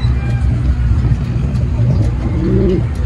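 A newly arrived pigeon coos close by in a loft, soft low rolling coos repeating over a background of distant traffic and engine hum.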